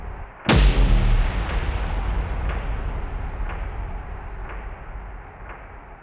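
A single loud cinematic impact hits, then its ping-pong delay echoes bounce back and forth, repeating every second or so and fading slowly.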